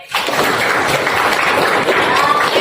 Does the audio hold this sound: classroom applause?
yes